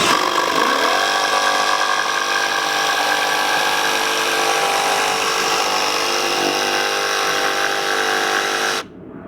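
A Milwaukee M12 Fuel cordless jigsaw runs steadily with its dust blower switched off, a loud, close, continuous buzzing whine that holds for several seconds and then cuts out abruptly near the end.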